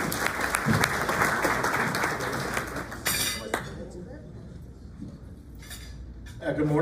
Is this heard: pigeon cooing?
no